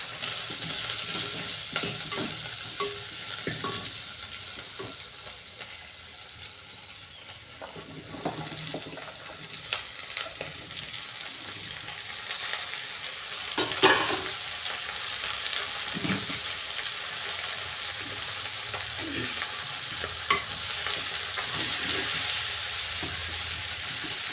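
Vegetables tipped into hot oil fry with a steady sizzle while a spoon stirs and scrapes the pan in scattered clinks, close and continuous throughout.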